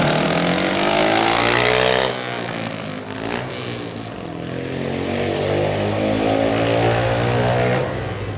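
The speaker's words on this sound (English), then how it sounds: "Stephen Mays on a Godden 500, 500cc's obviously. It's a single cylinder machine" A Godden 500, a single-cylinder 500cc racing motorcycle built in the 1980s, blasts past at a seaside speed trial, its loud harmonic engine note sweeping close by and then easing down in pitch as it pulls away.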